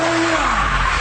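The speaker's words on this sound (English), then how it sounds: "Change gear in the middle of a slide like that." A car slides on a test track with its tires skidding and squealing, a loud, close, continuous screech over the engine's drone for about a second.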